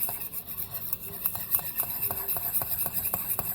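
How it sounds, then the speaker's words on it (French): Spoon stirring a homemade antibacterial gel with aloe vera in a small container, close repeated scraping and soft clinking strokes in an uneven rhythm, quiet and alone. "Donc je mélange"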